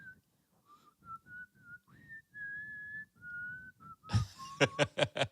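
A person whistles a tune in clear, sustained notes with short pauses, ending in a few breathy, airy bursts.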